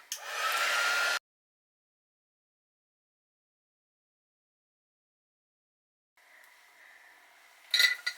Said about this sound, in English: I'm going to heat emboss it in black.